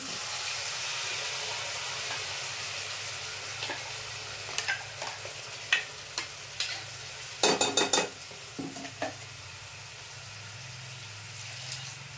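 A pan sizzles steadily while a thick ground spice paste is poured in, scraped and stirred, with a few spoon clinks against the pan.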